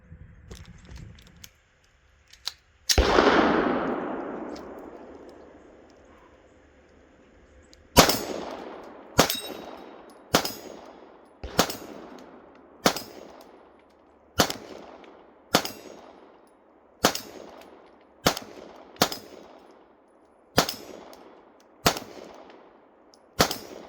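Glock 17 Gen 5 pistol fitted with a Shield RMS 2.0 red dot firing at a shooting range: a loud opening shot, then about a dozen sharp reports spaced roughly a second apart, each with a short ringing decay.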